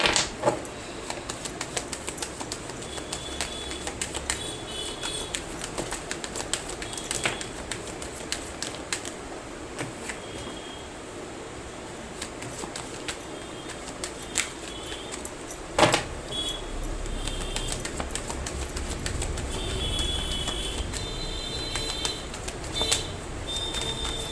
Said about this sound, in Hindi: and now we start shuffle the cards